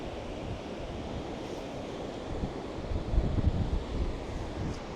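Waves surge and wash against a rocky shore on a windy morning in Puerto del Carmen, Lanzarote, a continuous rolling roar with gusty wind buffeting the microphone and a heavier swell building near the end.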